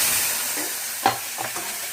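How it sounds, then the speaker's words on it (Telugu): Hot tempering with asafoetida is poured into sambar, giving a soft steady hiss with a brief sharper sizzle burst midway and a few faint crackles after, close and without speech. "ఇందులో వేసేసుకుందామండి ఈ పోపుని సాంబార్లో."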